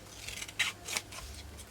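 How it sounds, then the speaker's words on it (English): Scissors snip through paper for a collage, two quick close cuts standing out over a soft background hiss. "just cut this bit off."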